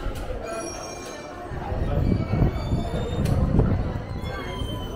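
A Toronto subway train runs underground, with a loud rumbling roll, rhythmic wheel clatter and thin high squeals from the wheels on the rails, heard close from inside the car amid faint background voices.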